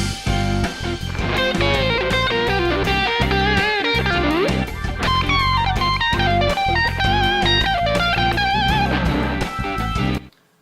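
Distorted electric guitar plays a fast bluesy lick with bends and quick runs, loud and alone, ending abruptly after about ten seconds.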